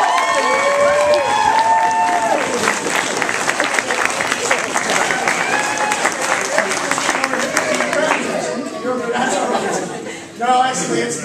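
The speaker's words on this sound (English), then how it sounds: "Give them both a round of applause." An audience at a Renaissance banquet show claps and cheers steadily for several seconds, with voices talking over the applause as it fades.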